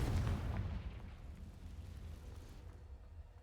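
A Confringo blasting spell goes off in Hogwarts Legacy, a deep rumbling boom that hits loud at the start and then lingers as a low, steady roar fading slowly.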